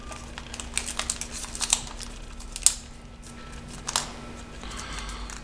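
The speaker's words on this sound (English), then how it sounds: "And now fold it in half." Paper being folded and creased for an origami polar bear, close soft crinkles and taps in small bursts over a steady low hum.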